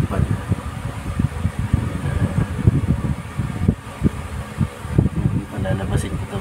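An electric fan runs indoors, giving a steady whirring hum with uneven clatter and room noise throughout.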